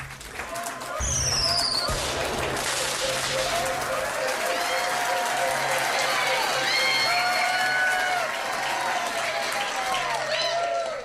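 A pub quiz crowd at The Granta claps loudly and steadily for the sound engineers, dense applause with scattered cheers and voices running underneath for several seconds.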